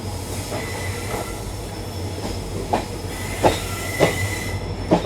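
Train of ICF coaches hauled by a WP4 locomotive running on track between Delhi and Jodhpur, a steady rolling rumble with rhythmic wheel clicks over rail joints growing louder toward the end.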